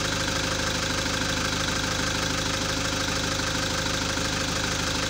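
A conventional car engine idles steadily with an even, continuous rumble during an injector cut power balance test, loud and close with no talk.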